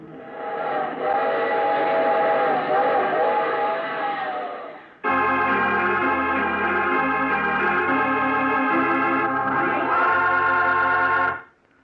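A loud, sustained multi-tone whistle blows continuously, changing pitch partway through, with a rumbling mechanical undertone like a train in motion.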